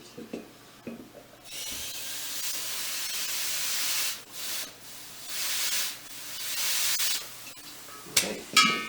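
Helium rushing out of a hose while a fat bike inner tube is inflated, a steady broad hiss in several bursts with short pauses between them, close and fairly loud, with a few clicks and handling noises.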